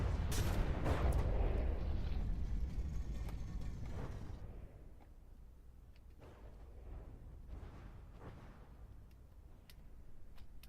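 Anti-aircraft missiles fire in the naval combat game From the Depths, loud rumbling launches and booms at first, then a quieter stretch with scattered distant bangs.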